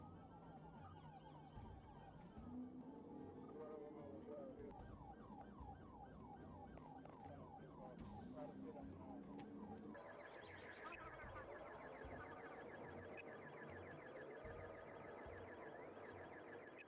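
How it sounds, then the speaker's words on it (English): A police car siren wails and yelps during a pursuit, holding a continuous cycling tone that switches to a faster pattern partway through. Engine noise runs beneath it. "the police officer activates the siren and alarm"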